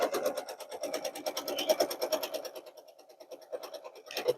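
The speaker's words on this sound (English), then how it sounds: "flip it on top of row 1, and sew down the right-hand side of it." A sewing machine stitches quilt block pieces in rapid, rhythmic bursts of needle clatter, pausing briefly in the middle before a final short run, heard close and alone.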